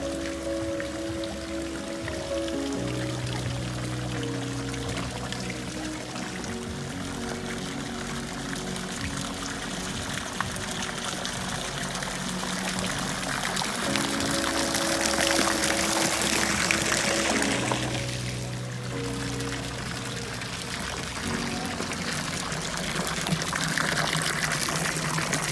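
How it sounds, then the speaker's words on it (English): Water flows and splashes steadily along a heated resort lazy river in Florida near Orlando, a continuous close rush with a brief louder surge midway, no voices. "this is going to be me taking you on a spin down the lazy river"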